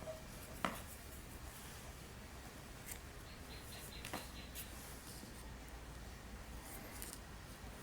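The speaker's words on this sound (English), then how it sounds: "To facilitate my turning, I am going to cut the white yarn" Scissors snip white yarn during a crochet lace project, a couple of faint quick cuts in a quiet room.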